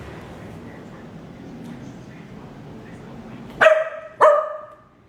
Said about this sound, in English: And the dogs are wrestling.